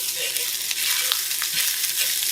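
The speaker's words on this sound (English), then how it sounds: "We heat up some oil, and now we're just going to put some of our onion flakes in there" Onion flakes fry in hot oil with a steady, close, crackling sizzle and a few light stirring taps, and no talk.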